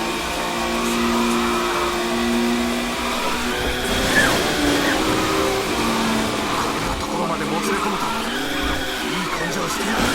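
A car in the Initial D PS3 racing game slides through a drift with tire squeal over a revving engine, heard under near-continuous excited talk.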